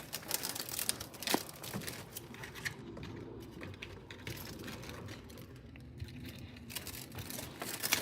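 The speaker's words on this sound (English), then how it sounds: "So right here, cut right at the base." Pruning shears cut a browning bird of paradise stem at its base, heard as close crinkling and rustling of dry leaves with several sharp snipping clicks and crunches.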